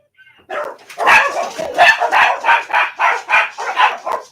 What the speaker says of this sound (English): Sorry, guys, my dogs are barking.